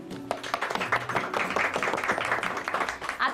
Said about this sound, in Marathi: चिरायूसाठी एकदाच टाळ्या.